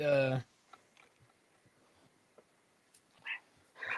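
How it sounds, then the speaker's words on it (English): A pet dog vocalizing in a quiet room, giving one short, loud, pitched whine-like 'talking' sound at the start, followed by faint scattered noises and a couple of brief soft yips. "I love it when your dogs talk, Beth"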